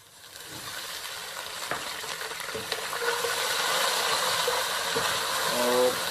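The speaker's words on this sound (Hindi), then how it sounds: "प्याज को अच्छी तरह से फ्राई करना है।" Garlic paste fries with browned onions in a pan, giving a steady hissing sizzle that grows louder as it goes, with occasional stirring clinks up close, and talking in the background.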